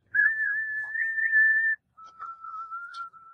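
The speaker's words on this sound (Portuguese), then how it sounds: "Era uma espécie de assobio, com um efeito de phaser." Two long, steady whistled tones, the second a bit lower, each held for over a second, clear and close with nothing else around.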